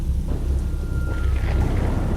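A thunderstorm brings a low rolling rumble of thunder over steady, dense rain, loud and continuous throughout.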